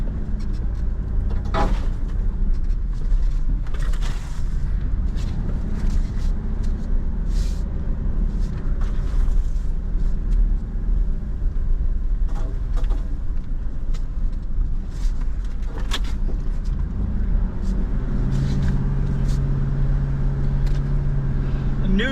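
A pickup truck engine revs and labors while mudding, giving a loud, continuous drone with surges of throttle and a steadier tone near the end.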